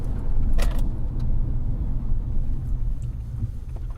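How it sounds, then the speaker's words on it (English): Low, steady rumble of a Hyundai ix35 hydrogen fuel cell car rolling along the road, with a dull drone of tyres and drivetrain, a couple of faint clicks, and no talking. "It's basically the sound of the wheels and the drivetrain. Yeah, tyre noise."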